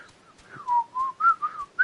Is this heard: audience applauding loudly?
no